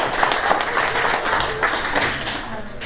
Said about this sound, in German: Gebt mal einen langen Applaus.